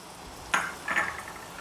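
Shallots, garlic cloves and curry leaves are stirred in a hot pan. A spoon gives two quick scraping clinks against the metal, fairly quiet, with a soft tail after each, and no voices.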